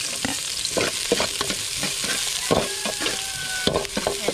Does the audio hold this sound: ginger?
yes